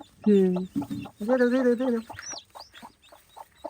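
Pet hens near a clutch of freshly hatched eggs give a few close, loud clucks and drawn-out calls in quick bursts, then fall quiet.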